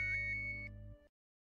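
A phone ringtone playing a short electronic tone about a second long that then cuts off abruptly, faint and alone.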